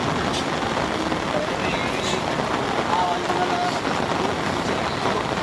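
Dense, constant hiss of heavy rain pours down without letup during flooding in Calayo, with a faint voice or two buried in the roar.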